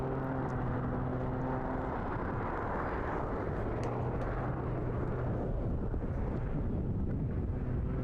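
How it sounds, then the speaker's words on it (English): Continuous loud jet roar from an aircraft hovering at the Eastbourne International Airshow, broad and steady with a low droning hum, buffeted by wind on the microphone. "as you can hear very clearly, the jets keeping him hovering in the sky"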